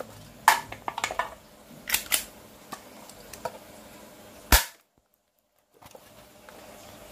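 Spring-powered Kimber Carry 1911 toy pistol, upgraded, firing plastic pellets at a can: several sharp, close clicks and snaps, with a bright crack near the end followed by a brief silence and faint handling noise.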